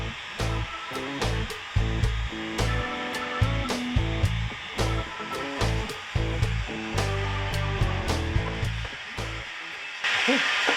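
A heat gun warms paint protection film on the hood of a 2025 Rivian R1T, giving a steady, close airy roar with a hissing top end that runs the whole time, mixed with tonal background sounds and a brighter rush near the end.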